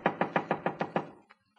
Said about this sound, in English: Wise guy knocking on his own door.